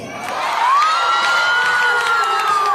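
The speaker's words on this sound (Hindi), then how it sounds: "जोरदार ताली।" A college crowd cheers and whoops loudly, a dense sustained roar of voices with high shouts and some clapping, rising quickly and holding steady throughout.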